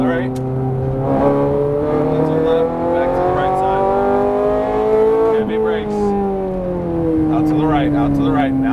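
A Ferrari F430 Scuderia on the Las Vegas Speedway track, its engine note climbing steadily under acceleration and dipping briefly before rising again, loud and close, with a voice talking over it.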